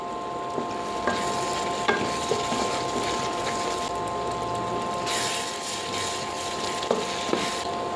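Shrimp brains fry in a hot pan with a constant crackling sizzle, broken by several sharp scrapes and clinks of a spoon stirring against the pan, close up with no talk.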